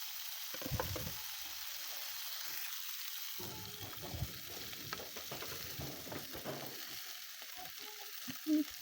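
Boiled rice being stirred into chicken fried rice in a hot pan, with a soft steady sizzle under repeated scraping and shuffling strokes of a spatula, close and fairly quiet.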